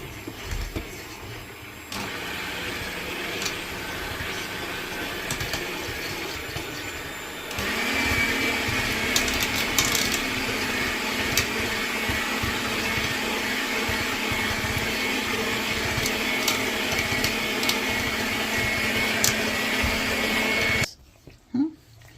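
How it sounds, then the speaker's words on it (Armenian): An electric mixer whirs steadily through a walnut sujukh mixture, a continuous broadband motor drone that steps up louder partway through as it runs for about twenty seconds, then cuts off abruptly. "Այսա միքսերով կանենք որ լավ լինի"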